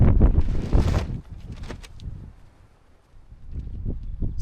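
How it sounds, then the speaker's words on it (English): Strong wind gusts buffet the microphone at a campsite with a tarp, loud rushing bursts at the start and end with a quieter lull between. "I'm slightly worried that the tarp's not quite going to be able to handle this wind"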